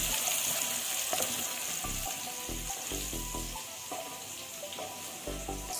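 Garlic sautés in a pan for a fenugreek leaf sabji, a steady soft sizzle broken by a few spoon stirs and scrapes, fairly quiet and close.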